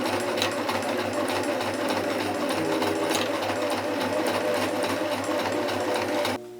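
A sewing machine runs continuously while stitching a dress, a fast steady mechanical whir and clatter heard up close, stopping right at the end.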